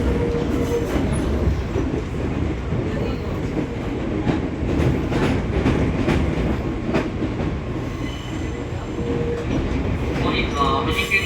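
A Fuji Kyuko 6000 series train, set 6502F with a Thomas Land 25th anniversary livery and field-added excitation control, runs between Fuji-Q Highland and Gekkoji on a switchback section. It makes a loud, continuous rumble with rhythmic wheel clatter throughout.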